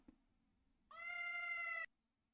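A single clear cat meow sounds in the Touhou LostWord video game, a short, moderately loud mew of about one second against near silence.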